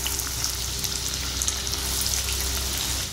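Chopped onion sautéing in a hot pan while making egg rice, a steady broadband sizzle and crackle that holds evenly close up for the whole stretch, with no voices over it.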